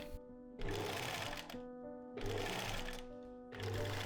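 A sewing machine stitches a hood into a tulle cape in three steady runs of rapid mechanical whirring, separated by short pauses, close and moderately quiet.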